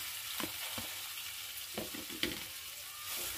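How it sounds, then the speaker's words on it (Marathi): Onion and coconut masala paste with mustard seeds and curry leaves sautéing on a low flame for stuffed brinjal, a soft steady sizzle broken by intermittent scraping strokes of a stirring spoon. "मला चांगलं असं बारीक गॅसवर असं परतून घ्यायचं आहे।"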